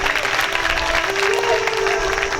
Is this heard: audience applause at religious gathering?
yes